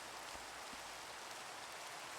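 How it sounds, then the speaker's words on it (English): Steady rain falls in the Minecraft world of Eternity SMP, a dense, even hiss of drops on surfaces that fills the whole moment without pause, with no voices over it. "It's been raining for a while"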